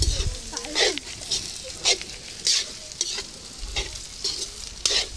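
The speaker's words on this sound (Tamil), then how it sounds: "சின்ன வெங்காயத்தை நல்லா வணக்கிலாங்க." Small shallots frying in a pan in a village kitchen, sizzling steadily while a spoon scrapes and stirs in repeated quick strokes, close and clear with no talking.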